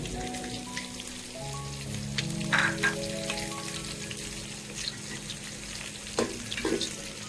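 Dry red chillies, five-spice, cardamom, cinnamon and bay leaves sizzle in hot oil for a Bengali bhuna khichuri, a continuous soft crackling hiss with a few louder pops and stirring clinks.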